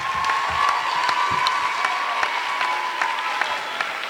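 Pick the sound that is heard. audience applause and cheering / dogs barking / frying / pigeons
audience applause and cheering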